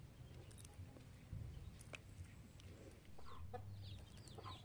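Chickens cluck softly in short, scattered bursts against quiet outdoor background, fairly faint and a little distant.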